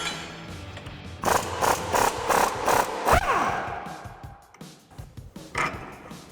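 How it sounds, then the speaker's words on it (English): A 21mm socket and wrench loosen a shock bolt on a 2014-2018 Silverado 1500 during a coil-over install, giving a quick run of rhythmic ratchet clicks, then a metallic clunk and scattered quieter tool knocks. "So I'll grab a 21mm socket and wrench for the bottom and a 21mm socket for the top."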